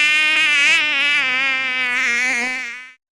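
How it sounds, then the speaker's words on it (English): A female mosquito buzzes close and loud in a steady, high-pitched whine that wavers slightly before cutting off abruptly. "should a blood donor walk by and wake a female mosquito from her midday slumber"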